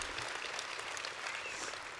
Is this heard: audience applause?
yes